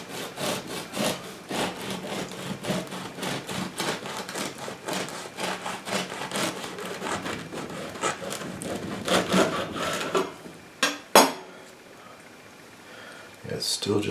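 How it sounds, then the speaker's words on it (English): A bread knife saws through a whole wheat pain de mie loaf baked in a Pullman pan, with quick, steady rasping strokes for about ten seconds before pausing, while a person talks. "you can cut it as thin as you want to cut it"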